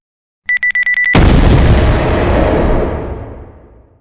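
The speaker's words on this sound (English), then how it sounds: "I was hurled away by an explosion" A rapid series of high electronic beeps cuts off into a loud, booming blast that rumbles and slowly fades over several seconds.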